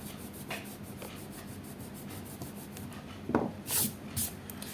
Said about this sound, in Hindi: इसको मैं रब कर देती हूँ यहाँ पे।